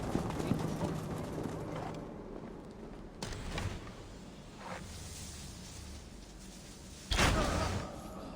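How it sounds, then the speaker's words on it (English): Footsteps in the video game Assassin's Creed Valhalla, heard as a steady patter of clip-clopping steps under low ambient noise, with a couple of sharper thumps and a louder impact near the end. "Footsteps."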